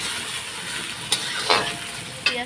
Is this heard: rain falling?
no